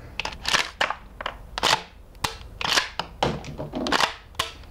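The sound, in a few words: APS CAM870 airsoft shotgun firing and ejecting shell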